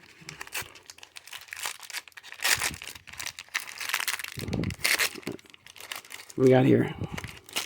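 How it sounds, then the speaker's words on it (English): Plastic packaging of a Masters of the Universe MasterVerse action figure crinkles and tears in bursts of rustling, with a louder rip near the end, under intermittent close talking. "So let me just try my best to open this up without ripping it."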